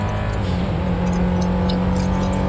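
Car engine in the GTA video game pushing toward 120 km/h, a steady loud drone with a low tonal hum throughout, continuous and close.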